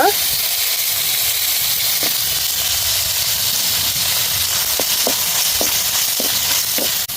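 Onions fry in hot oil with a loud, continuous hiss and a few sharp crackles and ticks scattered through it, heard up close.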